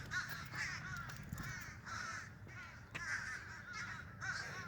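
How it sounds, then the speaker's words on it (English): Crows caw repeatedly outdoors, a series of rough, rhythmic calls at moderate distance over a steady low background rumble. "Maybe I should walk away from all the birds."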